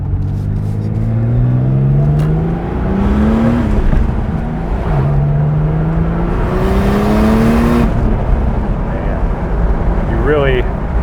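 A 1989 Porsche 930 Turbo Cabriolet with a G50 gearbox accelerates hard through the gears, its loud engine note climbing in pitch with each gear, dropping briefly at every shift, then rising again close by.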